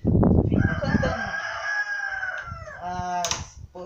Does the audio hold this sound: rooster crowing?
yes